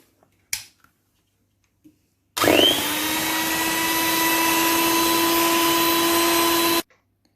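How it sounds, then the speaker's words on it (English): An electric beater whirs steadily through eggs with vanilla extract in a bowl, a loud continuous motor drone lasting about four seconds after a sharp start, with a couple of faint clicks before it switches on. "With the help of a beater, I'm going to nicely beat this egg."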